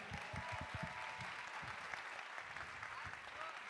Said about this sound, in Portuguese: uma salva de palmas aí pro show dos cria